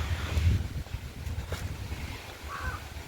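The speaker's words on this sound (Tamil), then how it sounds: "இன்றைக்கி காற்று அதிகமாக தான் இருக்குது" Strong wind blows across a village farm near Pollachi, buffeting the microphone with low rumbling gusts and a rushing hiss that rise and fall, no voices.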